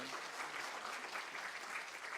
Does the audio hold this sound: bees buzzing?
no